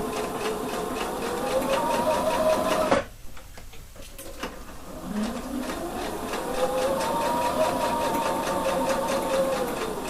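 A sewing machine stitches a jacket corner with ribbon, running in a steady rapid rhythm, pausing for a couple of seconds with small handling noises, then starting up again and running smoothly.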